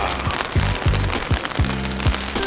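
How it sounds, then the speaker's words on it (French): Heavy rain pours down outdoors, a dense constant hiss of drops on surfaces with repeated low thumping impacts at a regular pace, loud and close, with no talk. "Il pleut des cordes"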